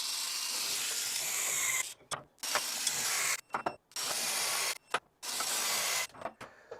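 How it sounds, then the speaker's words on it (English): A pneumatic torque gun set to 150 foot-pounds tightening nuts in several loud bursts of hissing whir, each lasting about one to two seconds with short pauses between, close and without talk. "We're going to take our torque gun here. It's set at 150 foot-pounds. I'm going to tighten each one of these fasteners."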